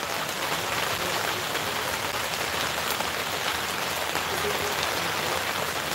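Steady outdoor rain pours down in a dense, even hiss with occasional sharper drops, moderately loud and without voices.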